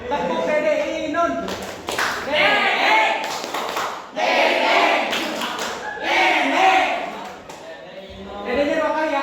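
Children in a school arts lesson perform a rhythmic clapping chant, with bursts of group voices chanting in time and sharp hand claps between the phrases.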